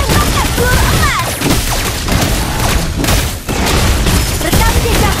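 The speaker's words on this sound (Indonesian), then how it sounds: "aku bawa senapan. Tembakkan peluru emas." Layla fires golden bullets in the Mobile Legends game, dense overlapping gunshots and booms packed into a loud, continuous barrage of in-game combat effects.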